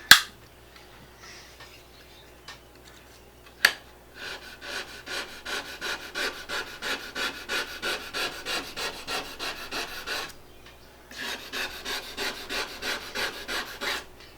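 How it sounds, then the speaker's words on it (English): A razor blade scrapes across a glass-top stove in quick, rhythmic back-and-forth strokes, close and raspy, running in two long runs separated by a short pause, after a few isolated taps at the start. "especially if you're scraping on a spot and it just will not come clean. Then you want to take your razor blade."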